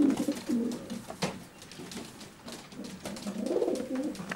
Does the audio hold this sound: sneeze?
no